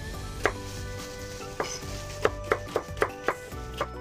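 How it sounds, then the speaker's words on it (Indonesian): A knife chops a quarter onion on a board, about nine crisp irregular knocks close by, quickening toward the end over a low steady background hum. "Kemudian seperempat bawang bombay. Ini dipotong sesuai selera saja."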